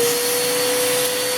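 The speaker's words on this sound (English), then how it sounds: "I'm going to vacuum up that hair." A vacuum cleaner runs close by, sucking up a hair from a small figurine table, with a steady loud whooshing hum and a constant tonal whine throughout.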